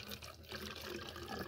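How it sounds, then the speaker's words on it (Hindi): Water trickles from a container into a medicine bottle as cattle syrup is prepared on a Punjabi farm, making a short, steady splashing pour at moderate distance. "पानी पा दिता इन"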